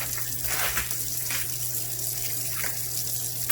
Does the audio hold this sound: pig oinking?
no